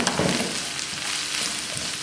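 Peas and onions frying in a pan for samosa filling, a steady close sizzle with soft stirring scrapes, no talk.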